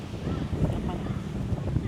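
Strong wind at Jomtien beach in Pattaya buffets the microphone with a steady, close roar and gusty low rumble, continuous throughout with no talk over it.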